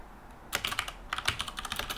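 Computer keyboard typing at a developer's Linux desk, a brief pause, then a brisk, close flurry of clattering keystrokes in irregular bursts.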